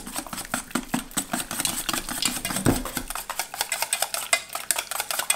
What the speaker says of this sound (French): Alors là, on va mélanger le tout